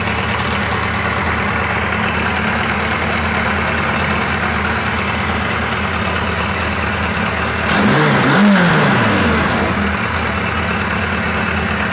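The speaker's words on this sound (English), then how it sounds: "It's probably why I didn't want to start at idle. I needed idle up a little bit more." A Police 1000 motorcycle engine idles steadily with a low, even rumble, briefly swelling louder for a second or two near the end before settling back.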